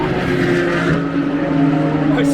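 Race car on the Silverstone circuit, engine droning steadily and loud throughout as it passes, with a brief higher whine near the end.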